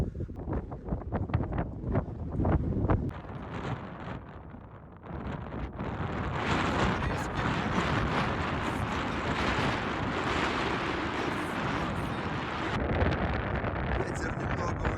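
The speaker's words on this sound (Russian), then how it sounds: "Ветер немного утих." Strong wind at Zabriskie Point in Death Valley roars steadily across the microphone, a broad continuous rush that surges louder after a brief lull and stays dense to the end.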